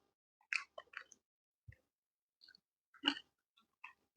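Soft, close chewing of tender chicken chaap meat with biryani comes in a few brief wet bursts with quiet pauses between them, faint and with no talking.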